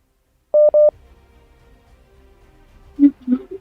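Two short phone keypad tones beep in quick succession while someone tries to get through after resetting a phone, followed by quiet line noise and a couple of muffled low thumps.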